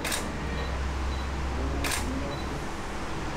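Two crisp SLR camera shutter clicks, one at the start and one near the middle, during a hair salon photo shoot over a low steady room hum.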